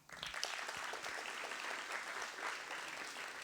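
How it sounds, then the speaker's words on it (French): Applause from an audience at an award ceremony, a steady, dense wash of many hands clapping that fills the whole stretch at moderate level, with no talking over it. "Vous pouvez les applaudir également."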